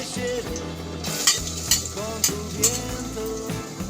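Ginger, garlic and onion sizzling in a pan for eel adobo in coconut milk: a close, continuous sizzle broken by several sharp clinks and scrapes of a spatula against the pan.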